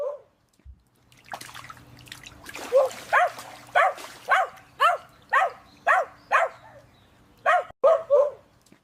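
A Chihuahua, rendered as an AI-generated dog, gives a steady run of about a dozen sharp, close barks in even rhythm after a brief whimper, with a short pause before the last two yaps.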